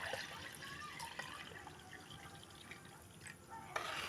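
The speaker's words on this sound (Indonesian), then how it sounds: "Air 1 gayung kita siramkan untuk memeras kelapanya" A dipper of water poured over grated coconut, splashing and trickling steadily for about four seconds, close and fairly soft.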